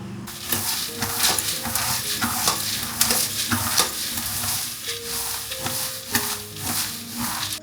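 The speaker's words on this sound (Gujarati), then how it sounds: "વઘાર આવે છે, સુગંધ આવે છે જોરદાર" A spice tempering sizzles and crackles steadily in hot oil in a pan, with a spoon stirring and scraping against the metal throughout.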